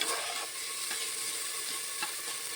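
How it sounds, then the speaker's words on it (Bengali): Raw mung dal dry-frying in a pan for a vegetable sabji, with a soft continuous sizzle and a few scraping strokes as a spoon stirs it. "এই যে মুগ ডালটাকে আমি ভালোভাবে একটু ভেজে নিচ্ছি"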